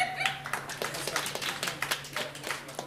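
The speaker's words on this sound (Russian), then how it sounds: "Дождался аплодисментов." Scattered hand claps from a concert audience at a singing school-studio show, a modest smattering of separate claps of varied loudness rather than a full roar, heard close and without talk.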